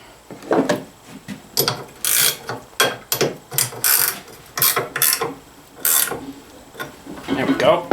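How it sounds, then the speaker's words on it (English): A nut being tightened with a ratchet on a zero-turn mower part clamped in a vise, giving repeated bursts of sharp metallic clicking in an uneven rhythm, close and fairly loud, with no talking. "I guess we could put the nut back on. That might cinch her down a little bit."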